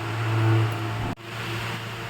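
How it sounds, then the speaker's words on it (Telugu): An electric mixer grinder runs steadily while powdering chana dal, giving a loud, continuous motor whirr with a brief dip partway through. "పచ్చెనగపప్పు మిక్సీకి వేసి అది పొడి చేశాను"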